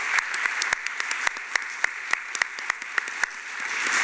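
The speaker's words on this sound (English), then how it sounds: "let's give her a round of applause for the Bonner Foundation." An audience at a youth showcase event claps in a steady, broad wash of applause, with a few sharper individual claps standing out above it.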